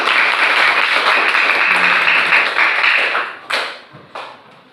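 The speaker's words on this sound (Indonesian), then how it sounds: "kita berikan aplaus kepada Getri" Hearty applause in a classroom for a student representing group 3, a dense burst of clapping lasting about three seconds before trailing off into a few scattered claps.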